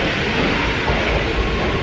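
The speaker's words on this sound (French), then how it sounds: "je me dépêche de parler puisque le train arrive et ça va faire beaucoup de bruit" Train arriving at a station in Japan, a loud, close, steady roar of rumbling wheels and rattling carriages with faint clickety-clack, filling the whole moment with no voices.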